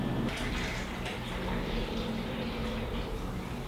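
Boiled water pours into a large jar while washing yeast for homebrewing, a steady, close, continuous splashing rush lasting a few seconds.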